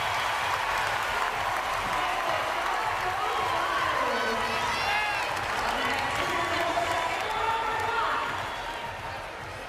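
At the 2021 CrossFit Games women's event, an arena crowd roars and applauds a heavy lift, with a dense, sustained wash of cheering and clapping and a commentator talking over it.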